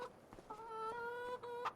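Chickens clucking in the Farming Simulator 25 video game, a short run of a few tonal clucks over about two seconds, faint and alone without talk.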